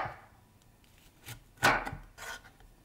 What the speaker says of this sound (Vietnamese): Sau đó mình cắt ra thành từng khoanh có độ dày khoảng 1 cm ha